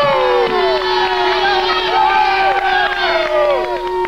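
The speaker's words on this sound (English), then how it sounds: "I don't want you to lose your voice cheering for me yet" A live comedy-show audience cheers and whoops loudly for the host, a dense, sustained roar of many voices with rising shouts throughout.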